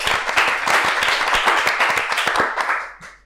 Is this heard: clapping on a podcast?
yes